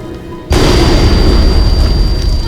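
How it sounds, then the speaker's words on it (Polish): A sudden loud bomb explosion in the video game Lotnicy bursts in after a brief quiet moment, followed by a sustained roaring rumble that fills the rest of the clip. "Uwaga, bomba wybuchnie!"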